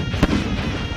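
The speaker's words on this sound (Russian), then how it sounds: "Рвутся бомбы." A single loud, close blast from a bomb going off during a reenactment of the defence of Taganrog, standing out from a noisy outdoor background with no talk.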